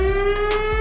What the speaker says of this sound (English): It's on the siren.